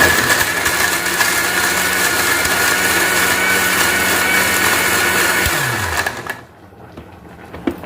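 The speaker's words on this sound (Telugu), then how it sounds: "మెత్తని పేస్ట్లా అయితే రెడీ చేసుకోవాలండి మిక్సీ పట్టుకొని" Mixer grinder blending onion and coconut paste, a loud steady motor whine running for about six seconds before winding down and stopping, followed by near silence.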